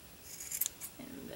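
A few quick, soft snips of scissors trim stray yarn flyaways from a handmade pom pom, heard close up and faint.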